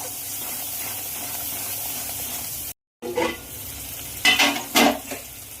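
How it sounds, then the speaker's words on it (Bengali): Mustard, poppy seed and green chilli paste sizzling in a hot pan, a short gap, then several brisk stirring scrapes over the hiss. "সর্ষে পোস্ত আর কাঁচা লঙ্কা পেস্টটা দিয়ে আবারও নেড়ে দেবো একটু"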